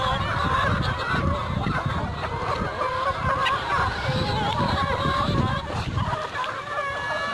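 Rhode Island Red hens and cocks on an open poultry farm cluck and squawk close by in a busy, continuous chorus, with a voice talking faintly among them.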